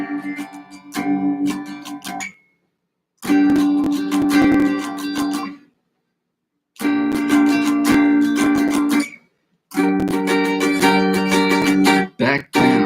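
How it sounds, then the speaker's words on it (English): Rhythm chords are strummed on a guitar in an intermediate practice session, played in three or four bursts of repeated strums separated by short silences, close and loud, with no talk. "The rhythm chords sound something like this right here."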